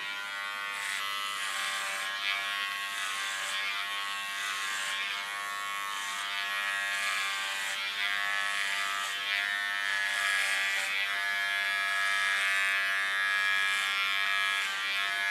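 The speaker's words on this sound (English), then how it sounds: "So when it follows the skull, I go in the opposite lines with my clipper comb." An electric hair clipper with a clipper comb cuts short hair, giving a steady close buzzing hum that runs without a break and swells slightly as it moves across the head.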